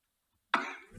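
A single short, sharp cough from choking on a cough drop breaks a moment of silence, close and fairly clear, at a school board meeting.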